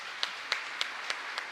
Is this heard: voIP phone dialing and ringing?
no